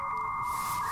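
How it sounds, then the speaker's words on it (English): Modem sounds from the video game Little Inferno sound as a steady electronic tone with a high hiss that swells partway through, continuous and fairly prominent. "Still got modem sounds."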